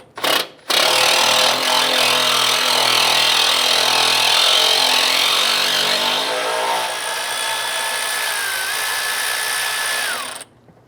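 A power tool whirs loudly and continuously, loosening and backing off a nut on the washer reservoir of a 2011-2019 Ford Explorer, its pitch shifting partway through before winding down and stopping.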